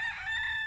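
A rooster crows loud and near among loose backyard chickens, the drawn-out call filling the whole short moment with no talk over it.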